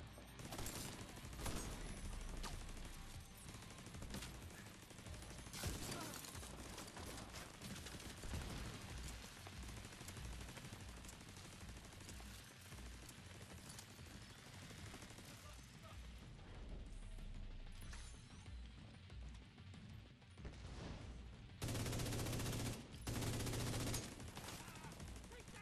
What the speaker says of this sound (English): Taking 3 shots.